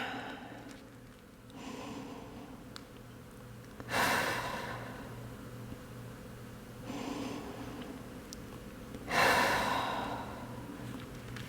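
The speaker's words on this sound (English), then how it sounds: "And breathe." Slow deep breaths during a yoga stretch, two long audible exhales roughly five seconds apart, close and soft against a quiet room, with faint breathing in between.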